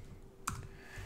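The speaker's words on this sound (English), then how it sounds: "So I'm just typing things up here" A single computer keyboard keystroke or brief click burst, close and fairly quiet, during a basic arithmetic tutorial in R, with low room noise around it and no talking.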